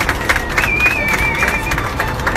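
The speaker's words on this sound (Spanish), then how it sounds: "¡Aplauso!" Audience at a circus act with an acrobat on a hanging plane, a steady wash of crowd clapping and cheering mixed with crowd noise, a thin whistle-like tone running through the middle.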